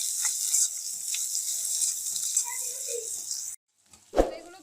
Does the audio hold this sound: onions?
yes